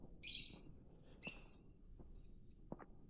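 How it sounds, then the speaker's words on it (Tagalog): Lovebirds chirping near cottages at a travellers' inn in Aritao, Nueva Vizcaya: a few short, high, bright chirps in bursts, fairly faint against quiet surroundings. "Oh, may ibon na. Lovebirds, hello!"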